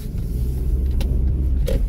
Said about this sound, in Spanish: Ahí vienen los camiones limpiando.